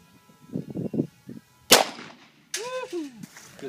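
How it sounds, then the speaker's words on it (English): Two sharp, loud gunshots from a .40 Smith & Wesson handgun at a shooting range, spaced under a second apart, each with a quick bright crack and short ringing tail, after some low muffled voices. "What are you shooting? 40 Smith & Wesson."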